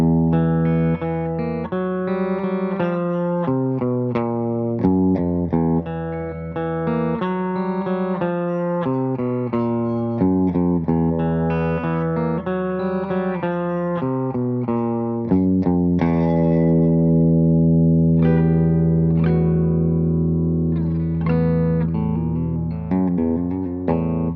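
A PRS SE Mark Tremonti electric guitar on the bridge pickup with a gritty, distorted tone plays chords and riffs continuously, fairly loud, with a brighter, sustained passage toward the end.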